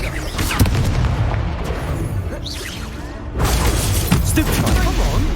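In Hogwarts Legacy, a Confringo spell goes off in a booming explosion with whooshing and crackling debris, followed by more blasts as combat continues, and a voice speaks over it.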